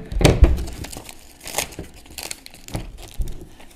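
Close crinkling and peeling noises come in short bursts as a vinyl sticker is weeded, with sticky tearing crackles between quieter pauses.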